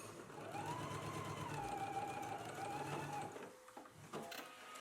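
A sewing machine stitching a seam on a McCall's 8313 garment runs steadily for about three and a half seconds with a whining motor hum, then stops, leaving a few soft handling clicks.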